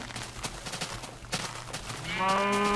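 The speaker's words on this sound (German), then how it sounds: "Könnt ihr mal die Klappe halten, ihr Kühe?" Cows mooing in Minecraft, a single drawn-out moo rising clearly near the end after a stretch of soft shuffling game noise.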